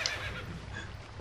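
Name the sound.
horse Epona neighing in video game Twilight Princess HD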